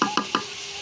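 A spoon stirring bitter gourd as it fries in a pan, giving three quick scraping strokes followed by a soft, steady sizzle.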